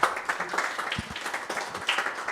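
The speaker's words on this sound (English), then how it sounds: "let's give a round of applause to Jonathan Hulme" An audience at an OpenSIPS 2022 conference talk claps in a dense patter of many hands, holding fairly steady for a couple of seconds.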